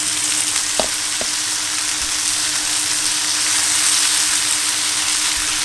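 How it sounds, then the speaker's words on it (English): Tomatoes stir-fry in a hot pan with a constant loud sizzle and hiss, broken by a couple of sharp clicks of a utensil early on. "All right, let's just stir fry this."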